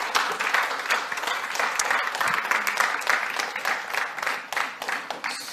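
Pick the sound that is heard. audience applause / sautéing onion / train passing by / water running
audience applause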